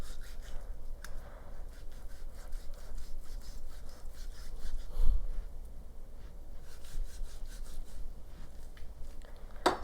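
A knife cuts into a raw pork roast with soft, repeated rasping strokes, close and fairly quiet, with irregular sawing rhythms throughout.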